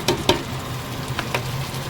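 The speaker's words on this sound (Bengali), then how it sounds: "মশলাগুলো দেওয়ার পর ভালোভাবে আর একবার কষিয়ে নেব।" A spice paste with coriander, cumin and garam masala powder fries steadily in a pan for a home chicken dish, giving a continuous close sizzle broken by a few scraping stirs.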